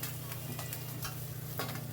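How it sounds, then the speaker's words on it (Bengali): Fish frying in hot oil while being turned over in the pan, giving a soft, steady sizzle with light scraping and clinking of the utensil, fairly quiet and close. "এপিট ওপিট উল্টে পাল্টে মাছগুলোকে ভালো করে ভেজে নেবেন"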